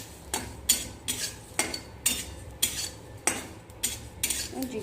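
Whole red chillies fry in a pan while a metal utensil stirs and scrapes, giving about seven sharp, regular clinks and scrapes over a low, faint background hiss with no talk.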